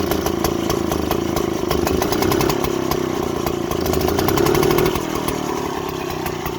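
A 1950s Qualcast 16 hand-cranked lawn mower's small petrol engine runs steadily and loud, its throttle roughly controlled with the choke so the pitch rises slightly before settling again, with no talking.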